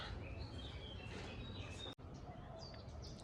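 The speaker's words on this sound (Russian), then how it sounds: "Утро и птицы поют." Birds chirp in the morning at a Tenerife holiday resort, scattered high tweets and calls drifting over quiet, steady ambient hiss, faint and somewhat distant.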